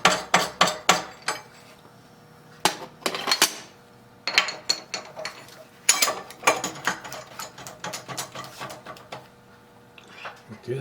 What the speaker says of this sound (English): we need to take this big boring bar out of there